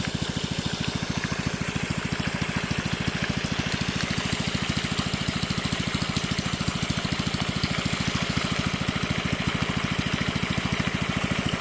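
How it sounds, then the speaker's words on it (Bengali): A small shallow-well pump engine runs steadily close by, pushing irrigation water into a field; its fast, even engine throb continues without a break under the rushing splash of water, with no voices. "এই ছোট্ট একটা মেশিন দিয়ে এত স্পিডে জল বেরোচ্ছে"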